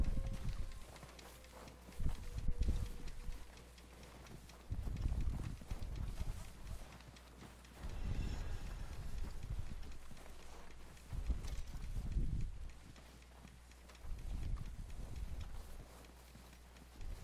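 A horse's hooves clip-clop in a loose, uneven rhythm close by, louder bursts coming in several clusters over low rumbling background, with a voice speaking at times.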